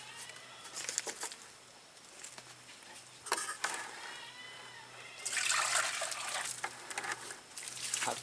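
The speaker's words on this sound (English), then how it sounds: "just have to pour some water inside here" Water is poured into a planting hole for an avocado tree, giving soft splashing bursts that swell louder midway, with faint bird sounds in the background.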